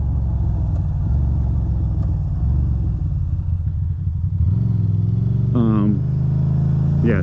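Motorcycles and car traffic roll past on a road in Pennsylvania, a steady low engine rumble running throughout with a rising rev near the end, heard from close by with a rider talking over it.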